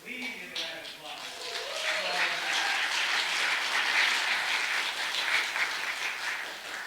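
A meeting audience gives a sustained round of applause for more than 20 presenting organizations, the clapping swelling after a brief moment of speech and holding steady and dense to the end.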